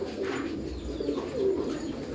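Pigeons cooing at a breeder's farm in Hyderabad, soft repeated low throaty coos layered close by, with a faint hum of background noise.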